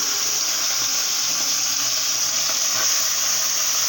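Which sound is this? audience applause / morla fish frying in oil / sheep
morla fish frying in oil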